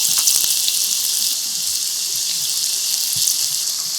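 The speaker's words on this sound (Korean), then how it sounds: "팬에 기름을 충분히 붓고 180도 온도가 되면 가지를 하나씩 떼어서 넣고" Eggplant pieces deep-frying in 180-degree oil in a pan, giving a loud, steady, bright sizzle that runs throughout, with faint clicks near the start and no talking.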